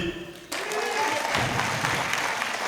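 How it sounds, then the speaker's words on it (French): A crowd at a cocktail reception breaks into applause, after a brief moment of quieter sound the clapping erupts suddenly and continues steadily, with faint voices mixed in. "Est-ce qu'on peut s'applaudir?"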